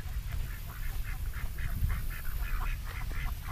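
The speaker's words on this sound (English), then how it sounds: "There's three ducks right here." Ducks quack repeatedly at a fishing spot by a lake, a rhythmic series of short calls over a low background rumble, moderately distant and fairly faint.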